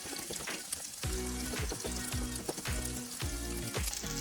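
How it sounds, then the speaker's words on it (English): Pancetta sizzles and fries in a pan, a close, continuous crackle with faint rhythmic scraping as it is stirred around. "Pancetta is getting nice and crispy in the pan, just keep stirring it around."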